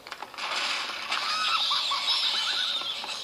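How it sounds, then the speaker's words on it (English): A cackling witch scream in the Angry Birds Seasons Haunted Hogs Halloween game, a shrill, warbling screech with rapid falling and rising squeals, rising abruptly and holding for a few seconds, no talking. "You just heard the witch screaming, so that completes the Halloween feeling of the game."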